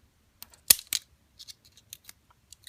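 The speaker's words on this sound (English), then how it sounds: "I don't think my scissors are strong enough for that" Scissors snipping at plastic toy packaging for a Monster High doll set, a handful of quiet crisp snips and clicks close up, one louder cut near the start, with no talk.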